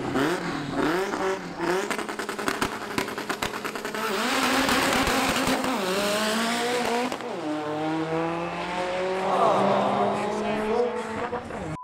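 Vauxhall Corsa drag race car launching hard down the strip at a Santa Pod test and tune day, a loud engine roar rising through rapid gear changes, with voices over it.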